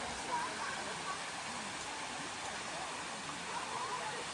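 The Bua Tong waterfall at Chiang Dao gives a steady, soft wash of falling water, an even hiss with no breaks, heard faintly and from some distance.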